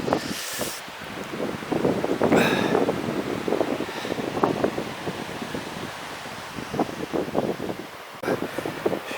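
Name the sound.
wind blowing in the Pyrenees mountains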